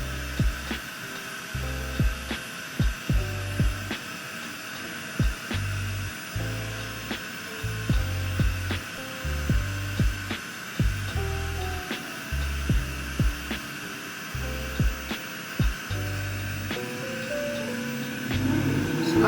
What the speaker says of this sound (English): So if you hear that, that's just my fan.